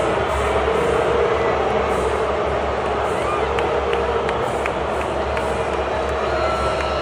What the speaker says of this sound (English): Taylor Swift gets booed at the Super Bowl.